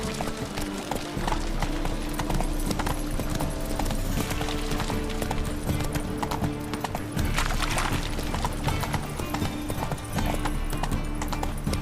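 Rhythmic hoofbeats of a horse galloping in the video game The Witcher 3, a continuous clip-clop pattern under game music and ambience, loud and steady for the whole stretch.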